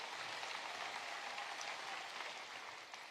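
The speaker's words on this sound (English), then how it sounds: "That does deserve an applause." Audience applause at a Trump political rally in Marietta, Georgia: a dense, distant wash of many hands clapping, steady throughout and tapering slightly at the end.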